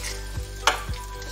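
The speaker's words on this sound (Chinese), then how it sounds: "我都是一点点油哈、 好，热油 下锅了" Mullet roe goes into a small amount of hot oil in a pan and sizzles loudly at close range, with a few brief stirring knocks and no voices.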